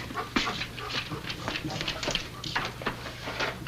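A dog whimpers and whines in a noisy scene, short thin cries repeating over a steady background hum, fairly faint and mixed with other sounds.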